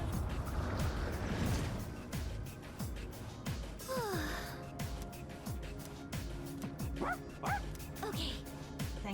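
Koromaru, the dog in the Persona 3 Reload video game, gives short barks and yips that repeat in a steady run, mixed into loud, busy game audio with music and other effects.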